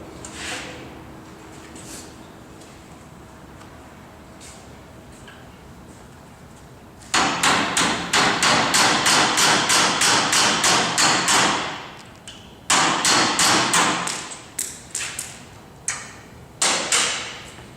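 Rapid, loud metal-on-metal hammer strikes on a punch driving a lubricator retaining pin, coming in quick rhythmic bursts after a quiet stretch, close up.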